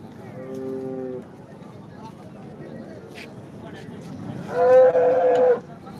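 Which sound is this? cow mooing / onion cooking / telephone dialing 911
cow mooing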